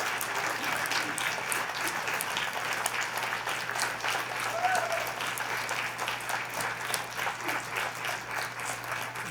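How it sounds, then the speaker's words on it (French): A large audience on its feet applauds steadily at a live commemorative show. The dense clapping holds at an even, loud level for the whole stretch, with no talk over it. "Levez-vous et applaudissez-les, s'il vous plaît, ils le méritent."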